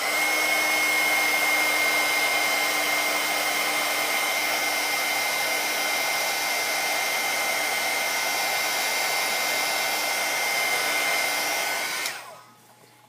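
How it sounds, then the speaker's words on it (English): A heat gun melts embossing powder on a small craft card, giving a steady, loud blowing roar for about twelve seconds before it switches off and winds down. "I'm going to hit this with my heat gun and emboss it."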